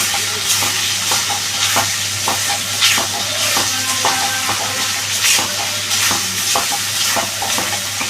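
Masala with melted tomatoes being stir-fried in a pan for potol pasanda, a steady loud sizzle broken by frequent scraping strokes of the spatula in an uneven rhythm, with no voices.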